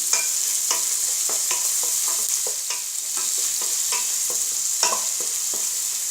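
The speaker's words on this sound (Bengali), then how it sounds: "মশলা খুব ভালোভাবে ভুনতে হবে। হলুদ এবং মরিচের যে কাঁচা গন্ধ আছে সেটা চলে যাওয়া পর্যন্ত আমি এটি ভুনবো।" Spice paste of turmeric and chili fries in leftover fish-frying oil in a pan for a hilsa and water lily stew, with a steady sizzle broken by regular scraping stir strokes close by.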